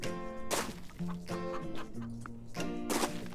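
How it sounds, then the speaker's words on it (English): Chickens on a farm in the Farm Together game cluck in short repeated bursts, with bright broadband flutters at intervals over a steady tonal background, fairly quiet and with no talk. "gonna have quite a few chickens."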